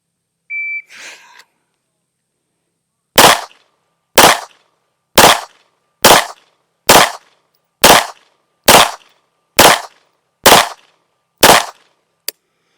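Ten evenly spaced, loud, sharp shots from a Glock 19 Gen 5 pistol during a timed accuracy drill, about one per second, each with a short decaying tail and a faint click at the end.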